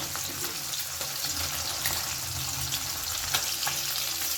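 Small fish fry in oil in a pan with a continuous close sizzle and crackle, plus faint clinks and splashy textures and no talk.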